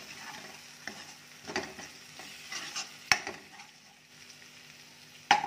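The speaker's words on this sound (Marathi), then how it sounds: "सोबत मी 2 चमचे कोल्हापुरी कांदा लसूण चटणी म्हणजेच कोल्हापुरी मसाला टाकते। तेलात छान परतून घेऊया।" Kolhapuri onion-garlic chutney masala with a pinch of turmeric fries in oil, making a faint soft sizzle with intermittent stirring scrapes and two sharp metallic clinks of a spoon against the pan.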